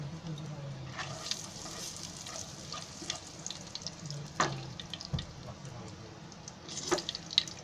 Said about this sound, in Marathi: आता त्याच्यामध्ये आहे ना मी थोडासा हिंग टाकते फोडणीला